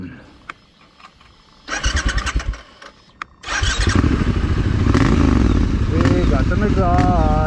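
Triumph Scrambler 1200 XE motorcycle starting up and revving on a rocky dirt track, loud and close, its engine and exhaust settling into a steady rumble after brief bursts.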